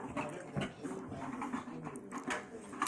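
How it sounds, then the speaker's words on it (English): A dog whimpers and whines nearby in short, uneven bursts, its soft nasal cries repeating over a few seconds with faint shuffling between them. "Why is this dog always bothering me?"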